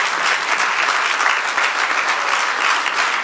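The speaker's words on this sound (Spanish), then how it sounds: "dale el aplauso al Señor" Church congregation applauding during a Spanish-language sermon, dense steady clapping from a full room that runs loud and unbroken throughout, with no voices over it.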